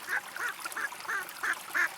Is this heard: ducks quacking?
yes